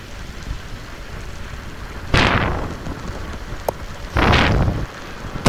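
Heavy rain on a midnight drive through the hills from Munnar toward Tiruppur, a steady wet hiss inside the moving vehicle broken by two loud whooshing surges, with a sharp click between them and no talk.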